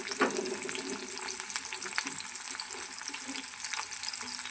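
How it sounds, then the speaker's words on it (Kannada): Onions fry in hot oil in a pan for a country-style chicken curry, a continuous close sizzle with light stirring clatter and scattered pops. "ಆನಿಯನ್ ಸ್ವಲ್ಪ ಫ್ರೈ ಮಾಡ್ಕೊಳ್ಳೋಣ"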